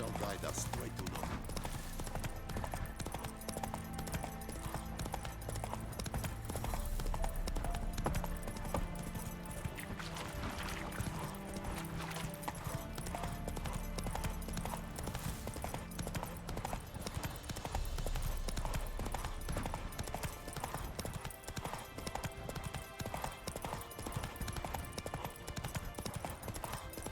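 Roach the horse galloping in The Witcher 3, a continuous rapid clatter of hooves running throughout under music and game sound, with voices talking over it.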